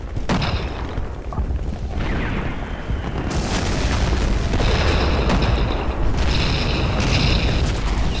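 A tank gun fires in a World War II battle game set at Küstrin, with heavy, booming blasts over a continuous loud rumble of combat noise and distant explosions.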